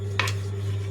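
Dishes being washed at home, with a brief burst of pots and utensils clattering against each other near the start, set against a steady low electrical hum with no talking.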